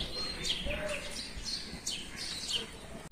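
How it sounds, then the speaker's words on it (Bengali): Small birds chirp and tweet in the early morning with repeated short high calls over a steady background hum, fairly faint and continuous with no talking. "পাখির ডাক"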